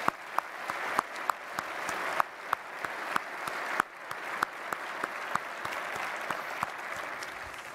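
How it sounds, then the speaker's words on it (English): A ballroom audience at an award ceremony opening the National Space Symposium applauds its award winners, a steady wash of clapping with sharper individual claps standing out throughout, moderately loud and sustained without speech. "how about a round of applause for all of our award winners tonight?"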